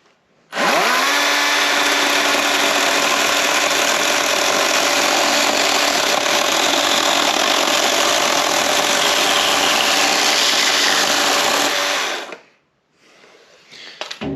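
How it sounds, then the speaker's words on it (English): A Wild Badger electric chainsaw bites into a black walnut log inside a garage, a loud steady whine running unbroken for about twelve seconds before cutting off. "It's nice having this little Wild Badger electric saw to use inside the garage."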